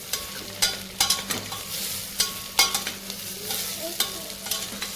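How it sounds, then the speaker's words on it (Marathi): Soybeans are stir-fried in a pan over a low steady sizzle, with a spoon scraping and knocking at irregular intervals close by. "आपण हे सोयाबीन त्याच्यामध्ये टाकून घेऊयात आणि व्यवस्थितरित्या परतून घेऊयात"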